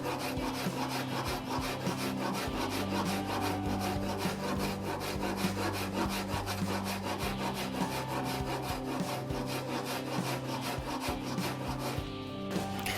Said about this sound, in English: Just keep filing down until you reach those lines.